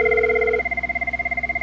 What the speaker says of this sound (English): Ringing Cisco CP.